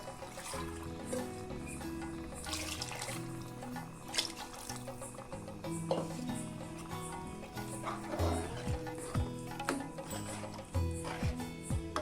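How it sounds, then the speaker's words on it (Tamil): Water pours and trickles into a pot of parotta salna gravy, rinsed from a grinder jar, with drips and splashes, fairly quiet and close. "ஜார கழுவி ஊற்றிட்டு இன்னும் கொஞ்சம் அதோட தண்ணி சேர்த்துக்கலாம்"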